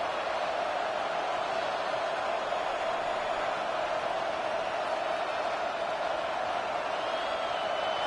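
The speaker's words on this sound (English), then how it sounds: "This crowd ready to make its presence known." Steady roar of a packed stadium crowd in a college football video game, Notre Dame against USC, a constant broad wash of noise at even loudness throughout, with no voices standing out.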